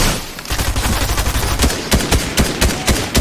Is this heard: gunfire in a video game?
yes